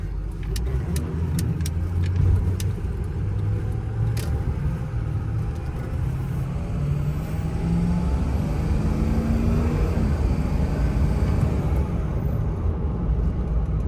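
A 2006 Ford F250 extra cab with a 6.0 Powerstroke diesel accelerates in a short pull, its deep engine rumble rising steadily in pitch as it gains speed and staying loud and close.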